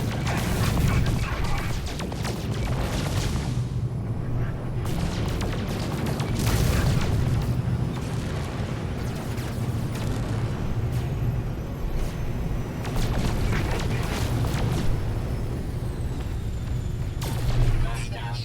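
Gunfire and explosions during a space combat in the video game No Man's Sky: a dense, continuous barrage of booms, blasts and crashes over a low rumble, lasting throughout.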